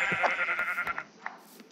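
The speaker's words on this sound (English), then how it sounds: "Sheep, where are you?" A sheep in Minecraft bleats several times in quick, wavering calls, close and clear, then trails off into quieter bleats.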